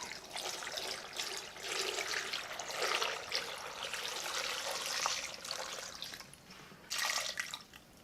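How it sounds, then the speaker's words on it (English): Water poured into the barrel of a Thumbler's Model B rock tumbler holding silicon carbide grit, a close, splashing trickle that surges and eases in a few bursts, with no talking. "I want to get a little water in here first."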